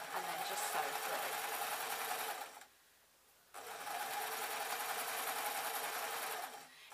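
A sewing machine stitches a lightweight newborn baby hat in two close, steady whirring runs, pausing briefly in between while the garment is turned.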